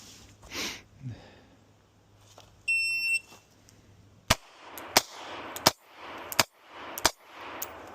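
A Sig P365 XL pistol fires at a range after a brief timer beep, six sharp, loud shots in a quick, fairly even string, each followed by a short echoing tail, with faint voices and movement before the shots.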